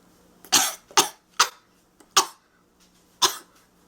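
Five sharp, dry coughs close to the mic, spaced unevenly over a few seconds with quiet pauses between them.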